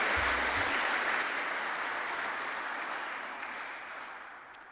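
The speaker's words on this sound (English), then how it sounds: "we're clapping for the students" Applause rises from a crowd gathered for a university ribbon cutting at UMaine Machias, a steady wash of many hands clapping that slowly fades, with a brief voice at the start.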